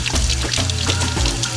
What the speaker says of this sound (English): Take the brush, put it in the water,